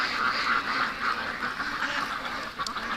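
A group of ducks in their pen keeps up a dense, continuous chatter of quacks at moderate distance, with no pauses.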